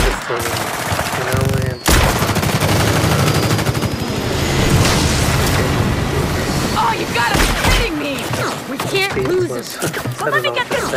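Gunfire in the Fast & Furious Crossroads video game during a hovercraft chase through a swamp: loud, dense bursts of automatic fire and booms almost continuously, with voices talking over the shooting.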